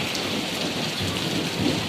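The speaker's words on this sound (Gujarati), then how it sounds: "અને અવાજ તો કેવો અવાજ આવે છે. જાણે ચોમાસાનો હોય વરસાદ એવો આવે છે." Heavy rain mixed with hail pours down in Bhavnagar, a dense, continuous hiss and drumming that stays loud and steady throughout.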